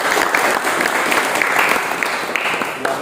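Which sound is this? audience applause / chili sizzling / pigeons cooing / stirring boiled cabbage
audience applause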